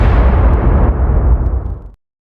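A loud, deep booming bang for a door slamming shut in an animated story, a heavy sustained crash that rumbles and fades over about two seconds before stopping dead into silence.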